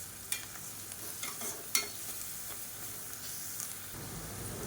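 Ground garlic and onions sautéing in a pan for village-style chicken uppu kari, a soft steady sizzle with a few scraping stirs of a spoon, fairly quiet and close, no voices.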